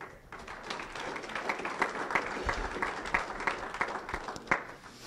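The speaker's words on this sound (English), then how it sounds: "So let's give them a round of applause." An audience applauds student athletes at a university winter sports media day, with steady, fairly faint clapping from many hands that swells and continues through the whole stretch.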